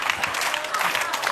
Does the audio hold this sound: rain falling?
no